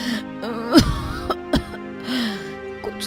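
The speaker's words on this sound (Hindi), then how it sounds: "ये कैसी खांसी है?" Woman coughing in an animated story scene, a few sharp close coughs spaced irregularly over a few seconds, with soft breathy vocal sounds between them.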